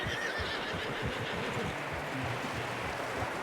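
A horse in Red Dead Redemption II whinnies over a steady bed of outdoor ambience, with a soft patter of hooves running beneath it; the neighing is moderately loud and close, and no one speaks.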